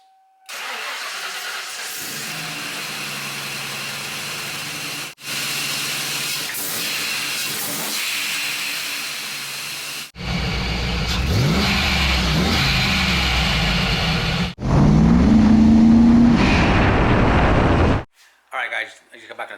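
Supercharged Ford Lightning pickup with a Tial QR 50mm blow-off valve, heard as loud engine idling and revving in several segments with a whooshing venting burst near the end, while a person talks.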